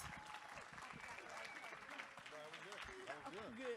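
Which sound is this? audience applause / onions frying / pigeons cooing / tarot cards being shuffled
audience applause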